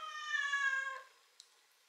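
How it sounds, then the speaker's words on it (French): One loud, drawn-out cat meow lasts about a second, close and clear, then fades into quiet with a faint click afterward. "Il miaule vraiment fort."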